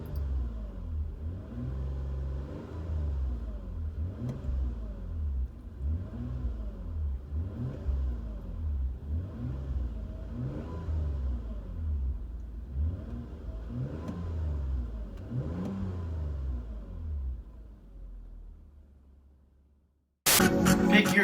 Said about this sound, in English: Interior tone level is mild with this Magnaflow split dual exhaust